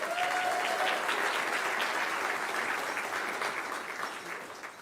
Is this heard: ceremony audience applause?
yes